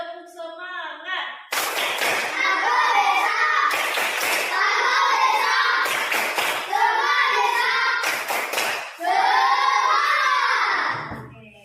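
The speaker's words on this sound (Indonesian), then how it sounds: "Oke, tepuk semangat." A school class performs a rhythmic spirit clap in bursts of loud, group clapping with chanted children's voices, broken by brief pauses, after a teacher's short spoken lead-in.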